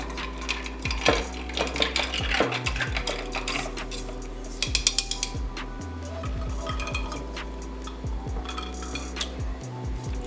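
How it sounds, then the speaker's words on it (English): Pasta being stirred in a pot with a utensil, with scraping and clinking against the pot's sides in an uneven rhythm, close up, over a steady low hum and faint background music. "And let's give it a stir."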